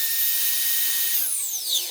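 An Admiral 12-inch miter saw whines at high speed during a test cut, a loud, steady, shrill spin that begins to wind down with a falling pitch near the end.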